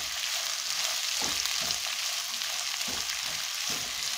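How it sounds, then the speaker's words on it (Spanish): Onions and peppers fry in a pan for pork fajitas, a constant hissing sizzle broken by a few soft scraping strokes as the mix is stirred, close and fairly quiet. "Vamos a mezclar todo bien."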